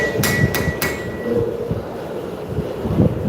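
A 4.5 pound hammer strikes hot metal during a live forging demonstration at a show. Three sharp, ringing blows land close together near the start, followed by quieter shop clatter.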